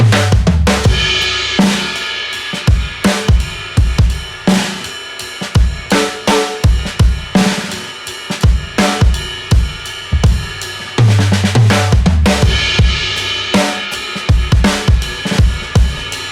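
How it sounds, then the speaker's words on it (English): A drum kit plays a steady rhythm that builds into busy fills, with punchy kicks and snare hits in a quick, driving pattern. "we're going to turn it into a drum fill that sounds like this"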